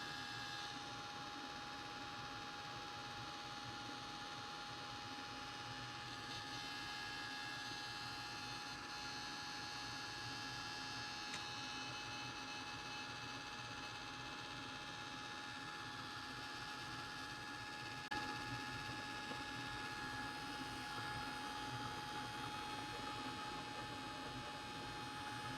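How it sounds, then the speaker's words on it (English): A handheld heat tool melts embossing powder for a craft project, giving a steady, even whirring hiss with a faint electrical hum that runs unbroken for the whole stretch, close and moderately loud, with no talking. "Melt the embossing powder."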